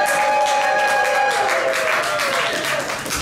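An audience at a haiku tournament final in a Richmond, Virginia venue applauds and cheers, a loud continuous mass of clapping with voices rising in the crowd.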